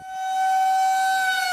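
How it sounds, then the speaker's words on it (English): An outdoor civil-defense warning siren in Austin, Texas rises to a loud, steady wail and holds it, a sustained tone with nobody speaking. "Sirens"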